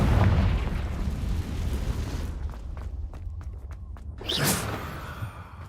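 A Confringo fire spell bursts in Hogwarts Legacy on PC with a loud, deep boom at the start, followed by rumbling debris and a second sharp crackling burst near the end.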